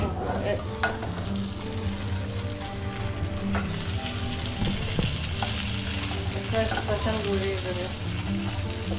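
Boal fish from a home pond frying in a pan while being stirred, a steady dense sizzle with scraping strokes throughout, people talking faintly in the background.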